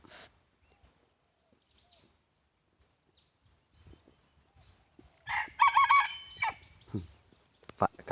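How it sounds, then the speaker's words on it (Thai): A rooster crows once at a distance outdoors in hilly forest, a clear multi-part call after a long quiet stretch, followed by faint rustling and a few soft clucks. "มันยังขันอยู่นู่นครับ"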